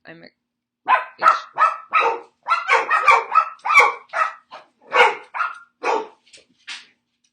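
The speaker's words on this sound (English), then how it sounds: "They bark at everything." Several dogs bark in quick, overlapping bursts, loud and close, with a few gaps between volleys.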